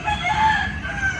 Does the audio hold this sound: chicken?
yes